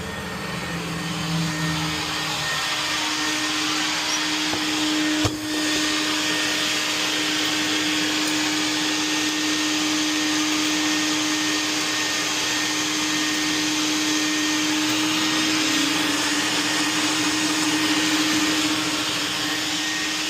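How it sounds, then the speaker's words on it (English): A car wash vacuum runs continuously with a loud, steady roaring whoosh and constant motor whine, unbroken apart from one brief knock partway through. "all 4 vacuums have been tested and are working."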